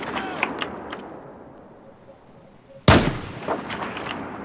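A single loud sniper rifle shot cracks out in a Battlefield game, standing alone over quiet ambient background, with a few faint clicks before it.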